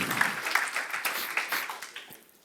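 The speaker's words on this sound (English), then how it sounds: "First, the applause." Audience applause after a talk at a tech conference, a broad crackling wash of many hands clapping that starts full and gradually thins and fades out over a couple of seconds.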